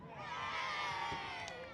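A stadium crowd of football fans erupts in a sustained roar of cheering and shouting at an Ipswich Town home match against Southampton, loud and continuous throughout, with scattered individual yells rising from the din.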